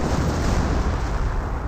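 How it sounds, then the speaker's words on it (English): Officer-called artillery barrage in Company of Heroes, a dense, loud rumble of overlapping blasts and booms filling the whole short stretch without a pause. "It looks like officer artillery from the captain."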